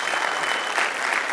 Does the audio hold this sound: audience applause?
yes